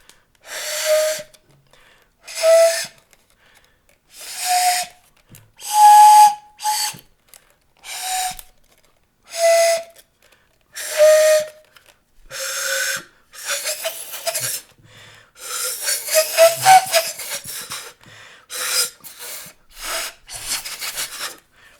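A homemade pan flute made of drinking straws is blown in a string of short breathy toots, each carrying a clear airy pitch, with quiet gaps between them and a longer wavering passage near the end, close and fairly loud.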